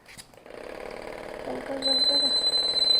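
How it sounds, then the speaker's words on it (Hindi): A student-built earthquake warning alarm, demonstrated at a school buildathon, starts a steady high electronic tone partway through and keeps sounding, close and fairly loud, under a person talking. "यह ऐसे अलार्म बजने लगेगा और आसपास के सभी लोगों को पता लग जाएगा कि कोई बड़ा भूकंप आने वाला है"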